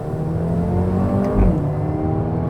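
A Mercedes-AMG A35 on Bridgestone Potenza Sport tyres accelerates with a steady, loud engine drone from inside the car that swells slightly midway, with no talk.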